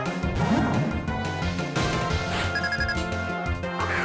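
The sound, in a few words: phone ringing in video game Pokémon Black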